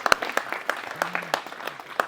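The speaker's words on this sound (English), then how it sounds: "Everyone wants to give him a round of applause." Scattered clapping from a small group at a landscaping company's team meeting, a loose rhythm of separate claps with a brief murmur of voices in the background.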